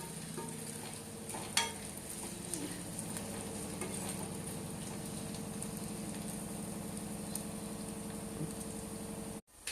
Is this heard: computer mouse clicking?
no